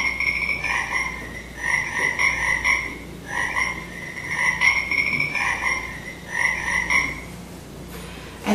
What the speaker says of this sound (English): At this time, you can hear the sound of frog